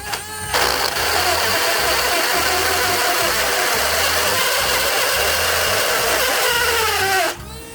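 A Dremel tool cuts into pegboard with a loud, steady high-pitched buzzing grind that runs for several seconds, with a faint low rhythmic rumble underneath, and stops abruptly near the end.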